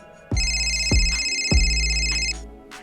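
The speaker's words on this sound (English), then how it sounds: "Oh, your phone's ringing." A phone ringtone plays loud and close, a bright sustained electronic ring with three rhythmic pulses under it, stopping abruptly after a couple of seconds.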